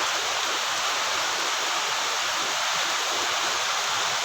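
Summer rain falling in Mayiladuthurai, a dense, steady wash of hiss with no breaks, loud and close, no voices.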